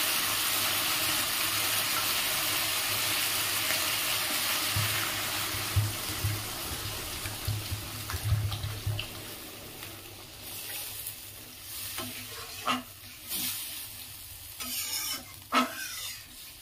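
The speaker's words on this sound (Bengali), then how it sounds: "আমার মশলাটা কষানো হয়ে গেছে, আমি পরিমাণ মতো জল দিয়ে দেবো।" Water poured into fried spice paste in a pan for a Bengali catla fish curry, a hiss of sizzling and steam giving way to intermittent stirring scrapes and bubbling, close and alone with no talk.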